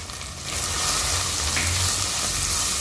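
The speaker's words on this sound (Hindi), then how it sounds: "प्याज आलू को अच्छे से भून लेंगे अदरक लहसुन में।" Onion and potato frying in a pan with ginger, garlic and turmeric, a steady, close sizzle that swells after a brief quieter start and holds a loud, even crackle throughout.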